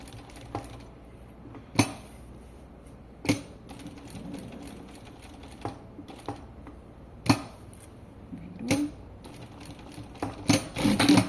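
A sewing machine works on fabric for a tailored double-welt pocket, giving scattered short mechanical clicks and taps with quiet gaps, then a denser cluster of quick stitching bursts at the end.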